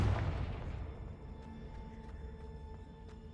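A Confringo blasting spell explosion in Hogwarts Legacy, a deep booming blast at the start that decays into a lingering rumbling echo with faint crackles, with no voices.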